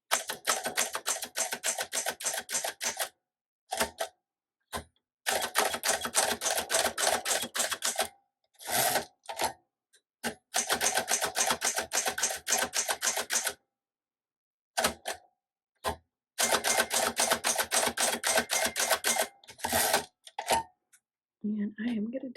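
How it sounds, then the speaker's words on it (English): Rapid clacking keystrokes on a 1932 Smith Corona flat top typewriter come in long dense bursts separated by short pauses, with a few isolated strikes and a carriage or bell-like sound near the end, close and loud. "I'm going to do more of the typing demo now, where I'm going to test all the keys"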